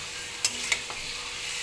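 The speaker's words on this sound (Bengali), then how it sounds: "এখানে এবার আমি আলুটা কষিয়ে নেব সমস্ত মশলা দিয়ে।" Potatoes and spices sautéed together in a pan: a constant sizzle runs throughout, broken by two or three brief spatula scrapes against the pan, nearby and unaccompanied by speech.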